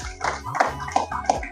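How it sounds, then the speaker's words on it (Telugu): Several hands clap in a short, loose rhythm at a church gathering, four distinct bursts spaced about a third of a second apart, moderately close and without accompanying talk. "వాళ్ళ కోసం చప్పట్లు కొడదాం."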